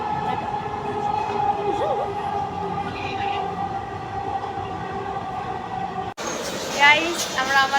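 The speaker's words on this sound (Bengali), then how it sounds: "আমরা মেট্রোর জন্য অপেক্ষা করছি" A metro train at a station gives a steady, loud rumble that drops briefly and is followed by a brighter, screeching stretch, like wheels squealing on the rails.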